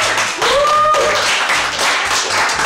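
A small team claps after finishing a hot wings challenge, a dense patter of hand claps close up with an excited voice rising over it and a low rhythmic music bed underneath.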